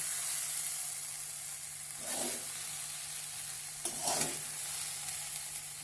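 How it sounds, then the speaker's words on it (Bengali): Eggplant pieces fry in a kadai while bathua greens are being cooked, giving a steady, soft sizzle broken by two short stirring scrapes of a spatula, with no talking. "পুরো লাল লাল করে ভাজবো না, নরম করে নেব।"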